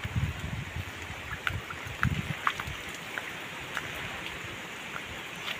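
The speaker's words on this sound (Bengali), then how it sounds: "দেখুন, এখনো বৃষ্টি নামতেছে।" Early morning rain falls steadily, a soft, distant patter with scattered drips and light splashes over a low wash of background noise.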